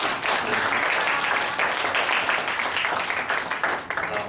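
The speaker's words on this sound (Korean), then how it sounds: "박수 한번 하십시오." Audience applause in a church during a Wednesday Bible study, a dense, steady clapping from a congregation that fills the whole stretch at fairly even loudness.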